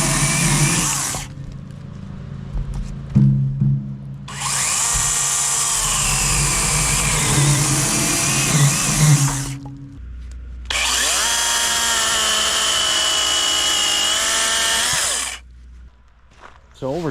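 Loud, whining motor of a DeWalt 8-inch battery chainsaw pruner revving in long bursts, its pitch dropping as it bites through a branch, with brief pauses between cuts.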